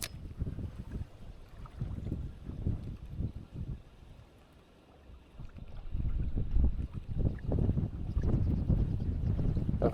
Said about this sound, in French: Ça souffle de fou. Tempête.